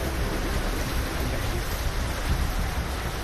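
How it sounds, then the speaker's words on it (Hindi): Steady rain in Delhi during a January downpour, a dense even hiss with no breaks and no voices. "सुबह सुबह शुरू हुई बरसात रुक रुक कर पूरे दिन जारी रही।"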